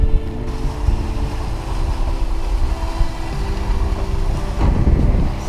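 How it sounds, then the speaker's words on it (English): Sailboat's inboard engine motoring out of a shallow Caribbean bay near Union Island, a steady low droning hum with wind buffeting the microphone and water noise throughout. "Usually I like to try to get off the places without the engine, but here I definitely need it."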